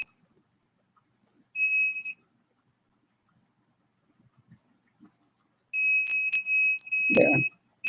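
A smoke detector alarm sounds in two bursts of shrill, steady electronic beeping, one short and one longer, separated by near silence, with a brief low thud near the end.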